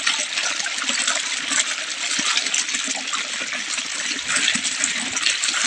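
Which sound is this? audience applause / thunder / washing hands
washing hands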